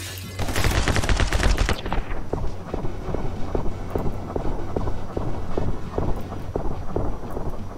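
Machine gun fire in the My Friend Pedro game begins as a rapid dense burst, then settles into regular spaced single shots that continue evenly and close, with no talking.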